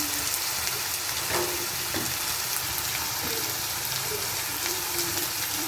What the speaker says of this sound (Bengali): সামান্য পানি দিয়ে কষিয়ে নিচ্ছি।